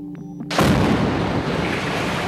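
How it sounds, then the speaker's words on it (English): Explosion from an Israeli military airstrike on Gaza, a sudden heavy boom after brief quiet, followed by a long broad rumbling roar that fades only slightly, loud and close. "160 airstrikes by the Israeli military on Gaza overnight and into this morning"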